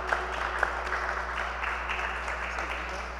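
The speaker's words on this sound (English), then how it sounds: "So can we have a round of applause for our panelists?" Light applause from a small audience for panelists at a Brooklyn tech event, soft and steady clapping over a low constant hum for a few seconds.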